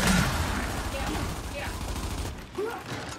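Bursts of gunfire in a Gears of War 5 Thrashball ranked match, with rapid shots and mechanical clatter blending under players' excited voice chat.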